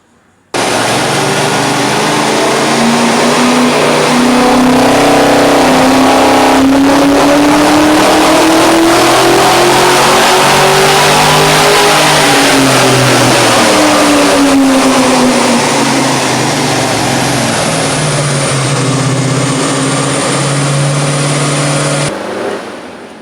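A stock LS1 V8 in a Holden Monaro revs loudly on a dyno during a baseline pull, the pitch climbing, dipping and rising again over a sustained run before cutting off.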